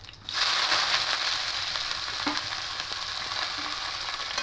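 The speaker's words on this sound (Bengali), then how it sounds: "আর এবার পেঁয়াজগুলো দিয়ে দেবো," Chopped onions drop into hot oil with a sudden loud frying hiss that holds steady, broken by a few soft stirring scrapes, in a fish curry preparation.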